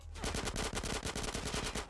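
Rapid automatic gunfire in the video game GTA: San Andreas rattles in a fast, steady burst of shots, loud and continuous for a couple of seconds.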